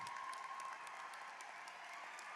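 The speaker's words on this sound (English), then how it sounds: "Give them a round of applause." Graduation audience at a Pattonville High School ceremony clapping steadily throughout, a dense, even wash of applause heard from a distance with no break.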